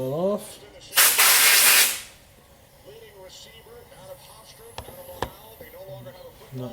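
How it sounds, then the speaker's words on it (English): A short, loud burst of spray from a can of brake cleaner hits Briggs and Stratton carburetor parts for about a second. Afterwards come quieter hissing, a few small clicks and faint background noise. "So always use brake cleaner. Blow it off."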